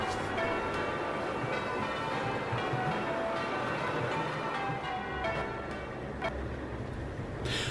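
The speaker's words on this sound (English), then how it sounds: "all the bells being tolled in the City of Spires" Church bells toll in the distance in Oxford, their tones lingering and overlapping against a soft background hum.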